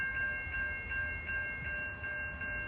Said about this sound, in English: 313, this should be train 49 from Hoboken to Middletown